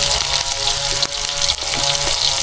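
Catfish frying until crispy in hot oil, a loud, dense, continuous sizzle and crackle close by, with a few brief dips as the pieces shift.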